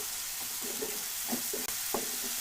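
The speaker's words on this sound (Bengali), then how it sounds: "চিংড়ি মাছগুলো দিয়ে আবারও ভালো করে নাড়াচাড়া দিয়ে নিব" A spoon stirring prawns and spinach as they fry in a pan, soft scraping strokes repeating over a steady hiss of sizzling oil, close up and without talk.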